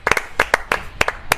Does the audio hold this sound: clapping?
yes